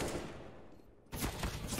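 Gunfire in a professional Counter-Strike: Global Offensive match, PaiN versus Vitality at BLAST Premier Spring: a dense burst of rapid shots, quieter at first and then louder and sustained after a sharp rise, with no talk over it.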